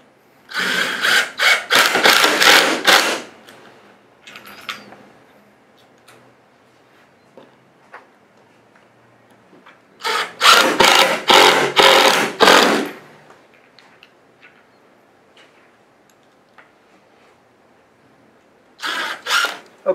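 A power driver sinks 1 1/4 inch screws into a hinge plate board while a bed frame is assembled. Several close, loud whirring bursts of a few seconds each are separated by quieter gaps with faint handling noise.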